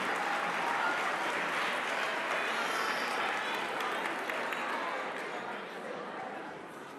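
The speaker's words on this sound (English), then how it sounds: "Give yourselves a round of applause" Sustained audience applause fills a senior summit hall, a dense, even wash of clapping that holds steady before easing slightly near the end, with scattered cheers mixed in.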